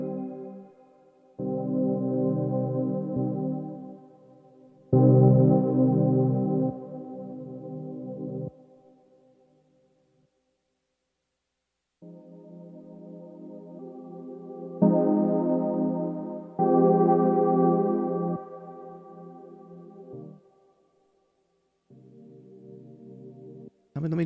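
A synth runs through a Tensor effects pedal, producing sustained, chord-like tones in phrases of a few seconds, broken by short gaps and one longer silence, with a slightly processed, lo-fi character.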